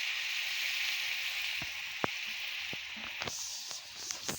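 Bitter gourd slices frying in a pan give a steady, fairly loud sizzle, with a few sharp pops and crackles scattered through the latter half and no one talking.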